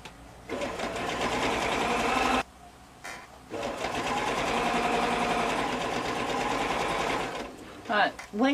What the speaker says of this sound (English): when you first start sewing your binding on